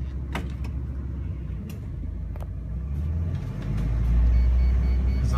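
A 2003 Ford E-350 Super Duty 15-passenger van drives along, a low steady engine and road rumble heard from inside that swells as it picks up speed, with occasional light rattles and no talk.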